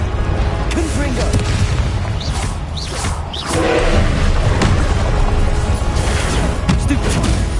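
Spell combat in the video game Hogwarts Legacy, with the Confringo fire spell throwing out booming explosive blasts and whooshes amid a dense, continuous battle din of crashes and effects.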